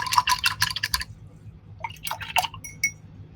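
An acrylic paintbrush is swished and tapped in a glass water jar, two short bursts of splashy clinking separated by a pause, close and small-sounding.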